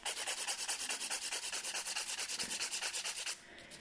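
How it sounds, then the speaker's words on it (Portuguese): Rapid back-and-forth filing of an acrylic polygel nail during a reverse French white set, steady raspy strokes about eight per second, close and alone, stopping near the end. "E ainda tenho aqui muita espessura para limar."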